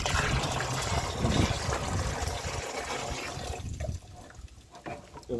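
Warm water pours steadily into a container holding grape juice and jaggery, a continuous splashing trickle that thins and fades near the end.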